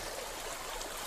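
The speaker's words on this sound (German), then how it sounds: "Doch, jetzt kommt Wasser." Water starts trickling out outdoors in the wilderness, a steady soft running and dribbling wash heard close, with no talk.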